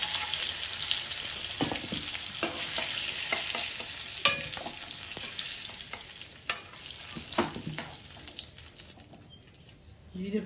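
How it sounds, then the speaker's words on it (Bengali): Cumin seeds tempering in hot oil for a capsicum and potato egg curry, a busy crackling sizzle with scattered pops and stirring clatter, steady and close, easing off toward the end. "জিরে ফোড়ন দিয়ে দিলাম, ওটা ভেজে নিলাম"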